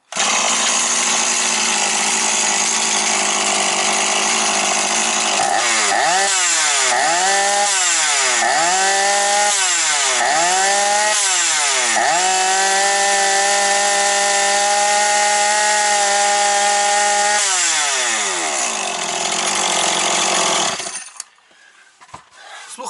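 A Stihl 180 chainsaw engine revs loudly in several surging pulls, then settles into a steady high-pitched running whine before abruptly shutting off near the end.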